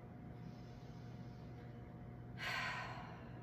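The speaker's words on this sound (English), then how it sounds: "Big breath in. Big breath out." Slow, steady breathing fills a quiet yoga session, with a soft, airy exhale swelling near the end; close and gentle, no voice heard.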